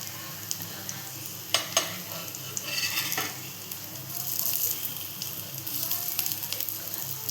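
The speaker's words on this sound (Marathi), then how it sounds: "कमी गॅसवर तळायचे," Vadas frying in oil over a low gas flame, a soft continuous sizzle with scattered pops and crackles, fairly faint and without talk.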